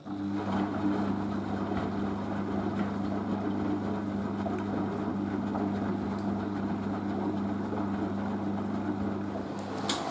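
A Merloni Electra WD1100 washer dryer fills with water during a 50°C non-colourfast cotton cycle: a steady, close rushing hiss with a low mechanical hum underneath, continuous and unbroken throughout.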